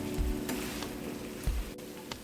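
Chicken pieces frying in a pan for spicy butter chicken, giving a soft, steady sizzle with a couple of low clunks as the pieces are turned.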